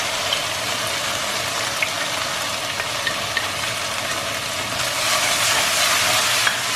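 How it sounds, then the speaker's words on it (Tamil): Tomato puree sizzles in a pan of sautéed onions, a steady frying crackle with faint scraping as it is stirred, slightly louder toward the end. "ஸோ தக்காளி பியூரே அரைச்ச தக்காளியை போட்டுட்டு நல்லா கிண்டி விடுங்க"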